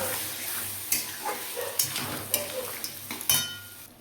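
Ghee-fried paneer cooking in a pan with a little water is stirred. Scraping strokes and sharp clinks of a spoon against the pan repeat several times over a low, bubbling sizzle.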